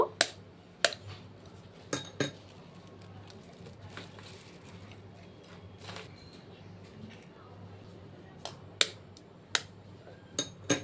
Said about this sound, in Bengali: আমি 5টা ডিম নিয়ে নিয়েছি, ডিমটাকে ফাটিয়ে নেব।